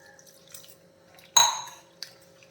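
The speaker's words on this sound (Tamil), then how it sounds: "இன்னும் கொஞ்சம் தண்ணி சேர்க்குறேன்" Water is poured into a cooking pot of Kerala-style anchovy (nethili) fish curry in one short, close splash, followed by a faint clink against the pot in an otherwise quiet kitchen.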